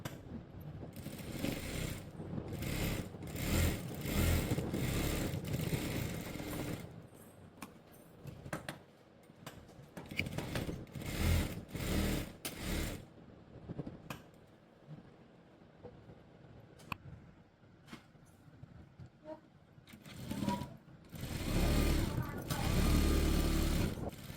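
Sewing machine stitching a government school coat, running in repeated short bursts of rapid mechanical chatter with pauses between runs, someone talking over parts of it.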